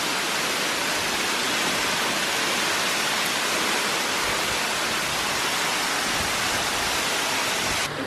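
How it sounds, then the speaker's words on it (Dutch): Waterfall pouring down close by, a steady, loud broadband roar of falling water and spray that continues unbroken throughout. "We staan nog steeds een beetje onder de waterval."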